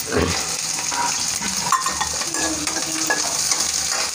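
Garlic cloves and a piece of ginger fry in a pan with a steady close sizzle, punctuated by spoon scrapes and clinks against the metal as they are stirred, no voices.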